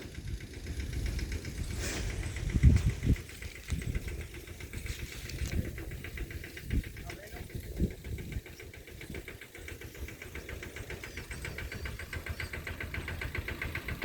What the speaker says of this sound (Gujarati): હવે ટ્રેક્ટર આવી ગયું છે આપણા ઘઉં વાઢવા